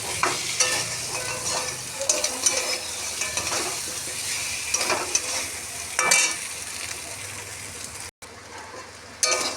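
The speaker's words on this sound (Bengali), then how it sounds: "আলুটা কষানো হয়ে গেছে, এর ভিতরে ভাজা কাঁকড়াগুলো দিয়ে দেবো।" Potatoes stir-fried together with fried crabs in a pan for a bottle gourd crab dish, giving a continuous close sizzle broken by frequent scraping and clinking of a spatula against the pan, with no voices.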